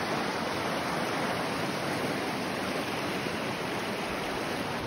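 Clear blue glacier water rushes down a mountain river in Washington, a steady, broad hiss of flowing water that stays constant and fairly soft throughout, with no voices.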